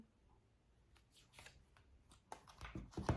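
A deck of tarot cards being shuffled, a series of quick riffling flutters and soft slaps that grow louder toward the end, with no voices.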